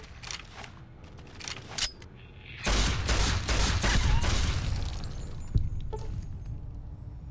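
Gunfire in the game Fallout New Vegas: a few sharp single shots, then a dense volley of rapid overlapping shots, close and loud, with no talking.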